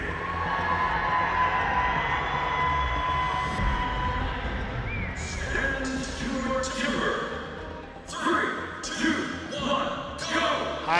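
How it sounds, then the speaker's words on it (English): A crowd at a national rodeo competition cheers and whoops for a competitor from North Fork, California, a sustained roar with sharp bursts and shouts growing louder toward the end, while an announcer talks over it. "One more big round of applause for Nate Hodges"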